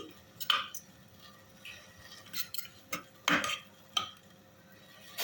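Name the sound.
stir-frying pounded fish meat with coconut milk in pot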